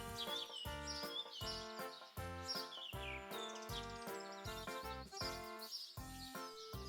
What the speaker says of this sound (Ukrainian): весняний спів пташок.